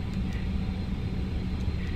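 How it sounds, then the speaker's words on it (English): Brake cooling fans spinning up on a BAE 146 airliner in a flight simulator, a steady broadband whir and rumble filling the cabin, continuous and fairly loud with no distinct onset. "You can hear the brake fans kick on."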